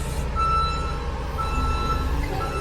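Repeated electronic reversing beeps from a nearby farm vehicle during silage harvesting, evenly spaced, over a low engine rumble.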